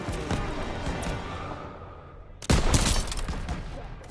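Call of Duty: WWII battle gunfire: dense rattling volleys of shots, loud and close, with a sharp burst of heavier fire about halfway through and steady shooting after it.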